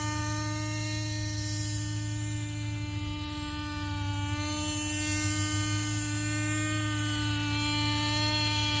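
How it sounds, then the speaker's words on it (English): Lite Machines model helicopter powered by an old Futaba battery, flying with a steady high-pitched electric buzz and rotor whir, constant and fairly close throughout with no talking. "Not a very responsive helicopter."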